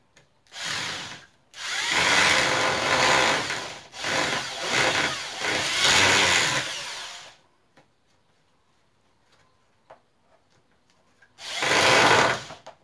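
Power tool driving screws while building a football goalpost, in several long loud whirring bursts separated by short pauses, then a quiet stretch of faint clicks before one last burst.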